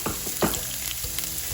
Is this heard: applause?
no